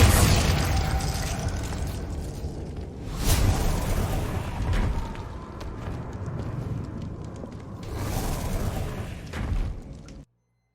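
Confringo fire spells explode in a Harry Potter-style video game, a series of booming blasts with heavy low rumble, a big burst near the start and another surge later, loud and close.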